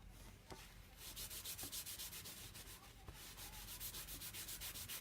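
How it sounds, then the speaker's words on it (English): Wax rubbed back and forth over cardstock for scrapbooking and card making, a close, soft, dry scraping in quick regular strokes, heard alone. "I've got my wax, and I'm just rubbing it all over my cardstock"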